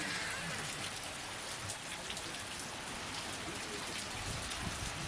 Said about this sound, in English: As you can see, well, you can't really see, the rain is still sideways.